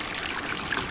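Water running steadily through a gold sluice box with a catch tank at its base, a close, even rushing wash with no breaks and no voices.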